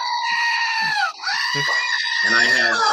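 A screaming goat toy used as a sound effect gives a loud, shrill, warbling bleat that is nearly continuous, with brief dips and speech-like fragments in between.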